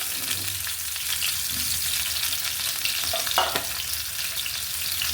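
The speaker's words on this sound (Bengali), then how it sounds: "তেল কিন্তু কিছুটা গরম আছে আমি গরমে কিন্তু কিছুটা গরম থাকা অবস্থায় আলু আর ডিমগুলো দিয়ে দিচ্ছি" Potatoes and eggs go into hot oil and fry, producing a steady bright sizzle with a few stirring scrapes and a brief clink partway through, close and even.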